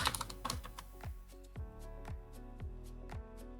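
Computer keyboard typed on while building a WordPress Elementor landing page, with an Enter press: a close, steady run of crisp plastic key clicks, some quick and clustered, others evenly spaced, with no talking.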